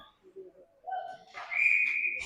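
A referee's whistle sounds in one sustained, shrill blast at a junior ice hockey game between the Jr Mavs and Mississauga Beast, after faint murmurs of arena noise.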